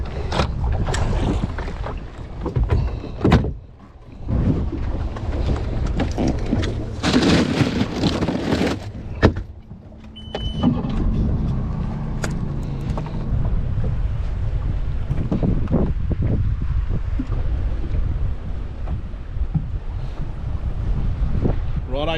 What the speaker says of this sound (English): There is no escaping this wind, so I'm going to hang around here for a bit.